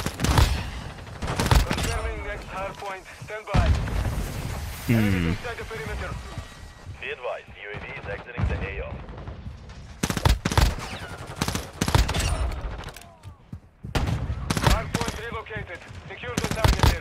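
Burst-fire pistol shots from a 15-round magazine in Warzone Mobile, with clustered sharp cracks in repeated bursts spread through a busy battle mix, under and between someone talking.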